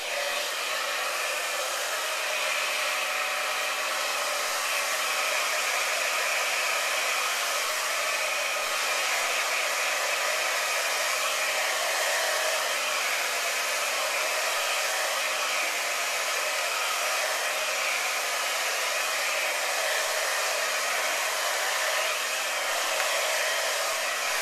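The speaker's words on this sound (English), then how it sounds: "if you dramatically overdirect this way and blow dry like this, you're going to get more oomph" A hair dryer blows hair dry in a beauty college salon for a volumizing style, a loud, steady, unbroken whoosh running alone for the whole stretch.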